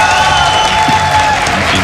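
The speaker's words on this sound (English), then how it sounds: "can hear that roar from the crowd there" Crowd roar at a StarCraft 2 WCS 2015 event in Germany, cheering for home favourite TLO: a dense, steady wash of cheering and applause that fills the space for two seconds, loud and unbroken, with no distinct voices standing out.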